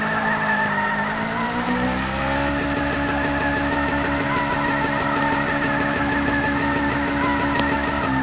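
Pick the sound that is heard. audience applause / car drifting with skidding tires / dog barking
car drifting with skidding tires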